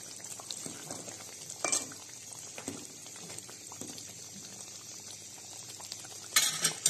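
Sukka with Kolhapuri masala sizzles and bubbles in a pan, a steady soft frying hiss broken by a few sharp clinks of a spoon or lid.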